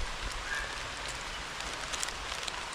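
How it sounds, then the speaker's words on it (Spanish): Steady rain falls outdoors during a fishing outing, a continuous even hiss of drops with no voices, holding a constant level throughout. "Está lloviendo."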